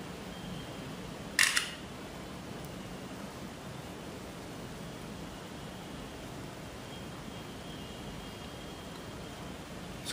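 A single crisp camera shutter click from an LG Optimus 4X HD P880 phone sounds once near the start over a steady hiss of background noise.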